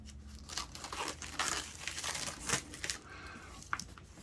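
Cutting open and unwrapping a Kickstarter package for The One Ring 2nd Edition: quiet, close crinkling and tearing of packaging in irregular bursts, with no talk.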